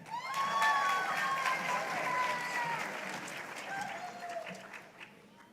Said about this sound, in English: Let's keep the round of applause going for Captain Ian Sklar